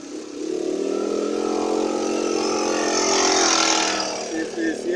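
Motorcycles pass close by a parked car on a busy street, a steady engine drone swelling to a louder pass near the end, with a voice talking over it.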